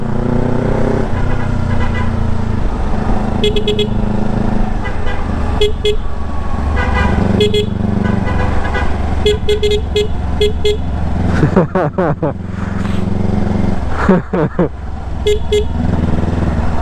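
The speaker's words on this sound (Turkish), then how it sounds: "Dayı ile kornalaşıyoruz ya." Car horns honking in night traffic, heard from a Yamaha R25 motorcycle: repeated short toots and longer blasts sound close over a steady engine and road rumble, with brief speech and laughter mixed in.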